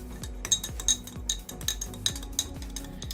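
A spoon stirs Tolak Angin herbal tea in a cup, giving a quick series of light metallic clinks against the sides at a steady rhythm. The clinks are close, crisp and fairly soft, with no voices.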